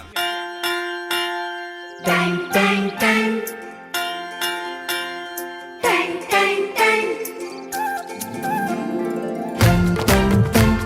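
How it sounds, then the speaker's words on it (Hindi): A bright ringing school bell chimes in repeated loud strikes, shifting into a melodic tinkling chime pattern with sustained ringing tones between hits. "सुनो घंटी बजी स्कूल की"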